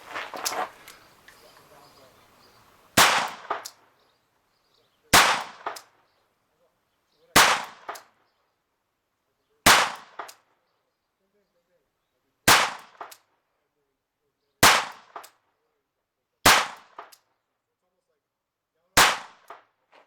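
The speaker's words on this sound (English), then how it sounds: "let's go shoot 8 more rounds" Shots from an HS 950 .22lr revolver fired at long range, eight sharp cracks spaced about two seconds apart, each with a short decaying tail, after an opening stretch of quiet voices and room noise.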